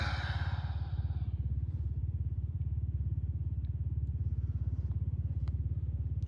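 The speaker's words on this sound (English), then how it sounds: "Some kid riding on a dirt bike." A kid's dirt bike engine running steadily and fairly close outdoors by a pond, a continuous low pulsing rumble that holds throughout with a brief higher whine at the start.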